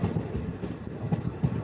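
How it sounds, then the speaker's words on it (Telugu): A DEMU passenger train pulls away from Rangepalli station and runs on, with close, loud clickety-clack wheel beats over a rolling rail rumble. The rhythmic thumps keep coming the whole time, and no voice is heard. "ఇక్కడ నుంచి కూడా మన ట్రైన్ అయితే స్టార్ట్ అయితే అయిపోయింది."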